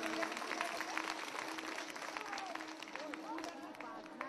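A folk festival audience at the Nadia Baul Academy applauding Pandit Tanmay Bose, a quick, dense clatter of many hands clapping in a hall, with a voice speaking over the clapping.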